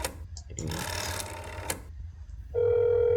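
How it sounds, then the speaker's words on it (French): An old telephone rings in the horror game That's Not My Neighbor, a rapid electronic bell trill in bursts with short gaps, followed by a steady tone, heard clearly without talk. "Le vieux téléphone, hein."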